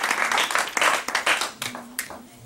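A church congregation applauds and acclaims the Lord, scattered hand claps swelling and fading in uneven bursts, fairly close, with a few voices underneath.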